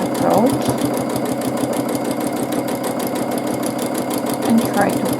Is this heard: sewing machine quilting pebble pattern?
yes